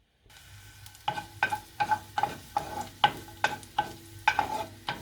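Dried tomatoes in olive oil go into a pan of sautéed garlic oil and are stirred in a regular rhythm, each scrape bringing a short sharp sizzle over a steady low hiss, close up with no voices.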